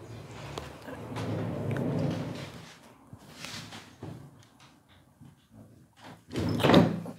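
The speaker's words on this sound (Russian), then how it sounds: "Сейчас, секундочку, я закрою дверь." An indoor door is pushed shut and lands with a firm, loud thud near the end, after several seconds of soft rustling and room noise. No one speaks.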